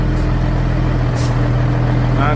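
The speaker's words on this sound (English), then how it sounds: "his old truck." Old 1988 truck engine idling steadily, a low continuous rumble up close with a faint hiss and brief clunks on top.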